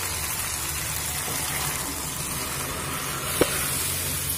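Boiled lentil dal goes into a pan of frying spices, flat beans and cauliflower, giving a steady close sizzle and bubbling throughout with one brief clink near the end.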